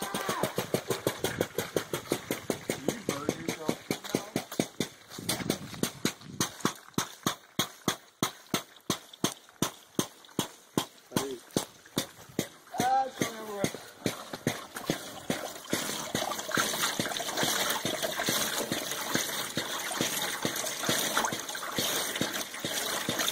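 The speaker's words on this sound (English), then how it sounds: "The diaphragm pump will now pump this bucket of watermelon remains." A diaphragm pump drawing up a bucket of watermelon remains, a rapid rhythmic chugging of pulses that quickens and then blurs into a steady whirring, wet gurgling mixed in, fairly quiet and close.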